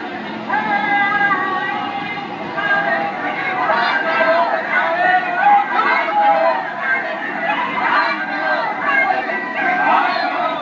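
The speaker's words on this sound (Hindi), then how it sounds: "और एक बार फिर रामलीला का मैदान लोगों की भीड़ से पटा पड़ा है" A dense crowd of government employees fills Ramlila Maidan in Delhi at a pension rally, a loud, steady babble of many voices close around with no single speaker standing out.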